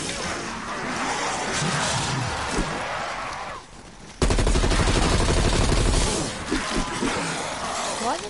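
Shotgun fire in a PS4 video game: a dense run of loud, rapid blasts cuts in suddenly midway over ongoing game noise, then gives way to scattered crashes.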